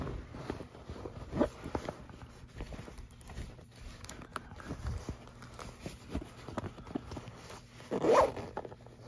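A zipper with a leather pull tag is opened and closed on the zippered compartment of a canvas-lined purse, producing short, close zipping strokes spread over a quiet background with light handling noise.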